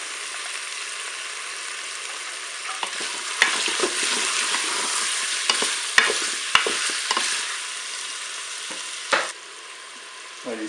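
Garlic sizzles and fries in a Cookeo multicooker on its browning setting, a steady close crackle with brief stirring clatters and scrapes from about three seconds onward, then quieter sizzling near the end.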